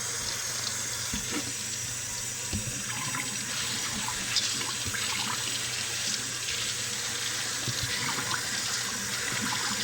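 Tap water runs steadily into a kitchen sink while dry beans are rinsed, with a continuous splashing hiss and small clinks and knocks scattered throughout.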